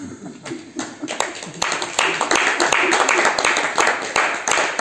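Church congregation clapping and applauding in praise of Jesus, rhythmic bursts of hand claps that build and stay fairly loud, with voices calling out beneath and among the applause.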